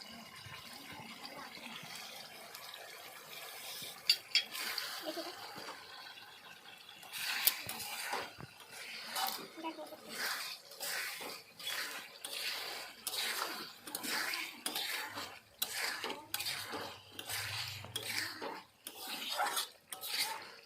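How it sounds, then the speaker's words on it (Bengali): Spiced amla pickle, made with ground spices, is stirred and cooked in a pan, a busy run of repeated metal scrapes and clatters with a soft sizzle underneath, fairly close. "ফ্লেম করে দিয়ে এখন আমি এটা 10 মিনিট ভালোভাবে কষতে থাকবো।"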